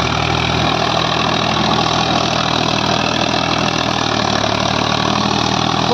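Sonalika RX 50 4WD tractor pulling a 72-blade Shaktiman rotavator at high speed while tilling a field, a steady loud engine drone with rattling blades running the whole time, no voices.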